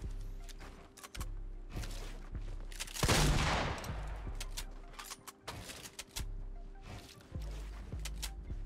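Gunfire from a bolt-action rifle in the video game Fortnite: a dense burst of shots mid-clip over a steady low engine-like hum, with scattered sharp cracks before and after.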